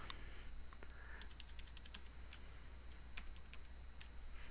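Keys on a computer keyboard are typed in a vim editor, producing faint, scattered clicks over a steady low hum, quiet and close.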